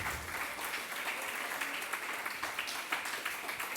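A church congregation applauds together, a dense, continuous wash of clapping that holds steady at moderate loudness for the whole stretch.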